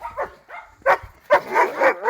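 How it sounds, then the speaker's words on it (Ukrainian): A dog in a village in Vinnytsia region in January gives several short barks and yips close by, coming in irregular bursts with brief pauses between them. "О, який хороший собака."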